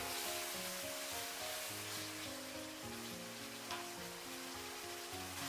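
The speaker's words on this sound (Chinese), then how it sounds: "快速的翻炒均匀，炒出锅气，使所有的食材充分的入味。" Ingredients and dough pieces stir-fried in a wok with soy sauce, oyster sauce and salt-pepper seasoning, giving a soft, steady sizzle, faint and continuous beneath background music, with no talking.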